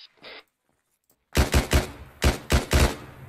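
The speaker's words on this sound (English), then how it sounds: "I hear gunshots." Gunfire in the Arma military video game: a brief faint shot, then two loud bursts of three close, booming shots each, with radio-style quiet between them.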